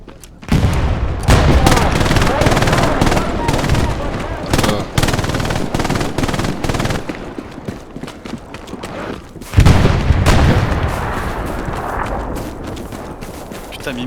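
Video game gunfire in a multiplayer shooter, loud and near, with dense rapid automatic bursts and booming shots that pause briefly, then resume in another heavy volley.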